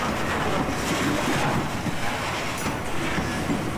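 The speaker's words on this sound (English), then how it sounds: "This train will be making a reverse move and heading west on the running track." A train in top-and-tail operation on a running track near Allentown and Bethlehem, Pennsylvania, rumbles past in a reverse move, with a steady loud roar, faint wheel clatter and wind buffeting the microphone, no talk.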